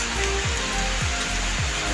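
Rain falls outdoors in a steady, dense hiss, loud and close, with a few low whooshing swoops passing through.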